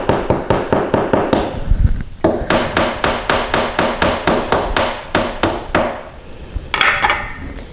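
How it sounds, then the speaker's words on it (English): A hammer taps the bottom piece of a cut-down hollow core door into place until flush, a steady run of sharp, close, evenly spaced knocks with a brief pause partway through. "we're just going to tap the bottom piece in until it's flush"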